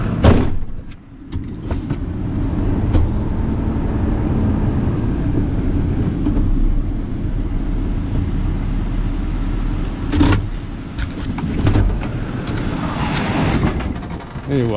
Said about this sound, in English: Got cars coming.